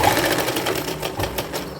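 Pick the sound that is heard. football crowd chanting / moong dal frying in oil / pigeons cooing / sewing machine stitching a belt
sewing machine stitching a belt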